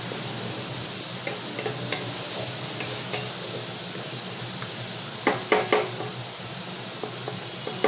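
A spice paste for yogurt chicken sizzles softly in a hot pan under a steady hiss, with light scraping taps from a spatula and a cluster of louder stirring knocks.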